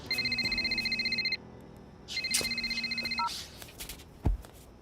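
A mobile phone ringtone plays in two bursts of rapid, repeating electronic beeps separated by a pause, close and clear, followed by a few clicks and a thump.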